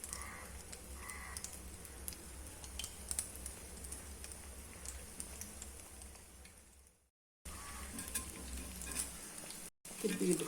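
Potato bajji in gram flour batter frying in hot oil over a medium flame, a steady soft sizzle with bubbling that runs on, briefly cutting out twice near the end.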